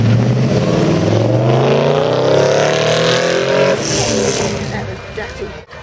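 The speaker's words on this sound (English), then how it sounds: "see that wheel spin" A Mercedes 560SEL accelerating hard from a standstill with wheel spin, the engine note climbing steadily and loudly through the revs before easing as it pulls away.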